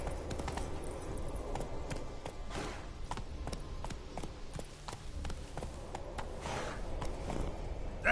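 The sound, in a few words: Roach the horse's hooves in video game The Witcher 3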